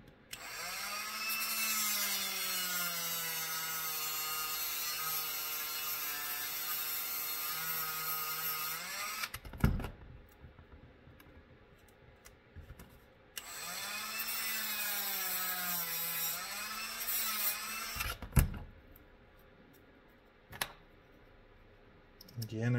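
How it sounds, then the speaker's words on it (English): A rotary tool grinds down part of the radio tray plate of a WRC SBX-2 RC car, a loud whining buzz that rises and falls in pitch in two long passes separated by a short pause with clicks and handling noises. "we'll grind a little section of that plate off, about half of this plate"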